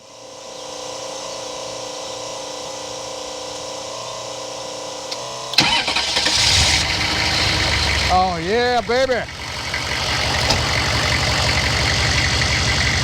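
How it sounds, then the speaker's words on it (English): A 1973 Mercedes R107 450SL with a V8 cranks and fires after a steady electrical hum, then settles into a rough, throaty idle with a warbling whine, close and loud, while someone speaks over it. "fire it up. Let's hear this beast run."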